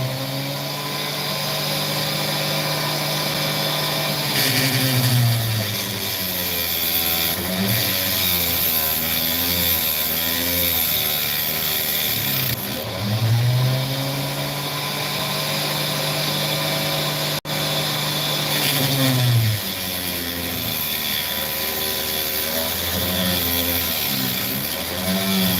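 A worn saw blade cutting rough opal along its sand and crack lines, giving a steady, loud mechanical whine with rising and falling tonal sweeps as the cut bites and eases, running continuously throughout.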